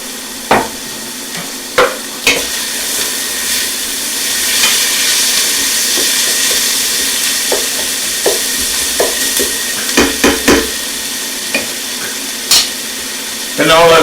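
Onions sizzle and hiss steadily in a pot as the base for butternut squash soup, with occasional clinks and scrapes from stirring over the continuous frying.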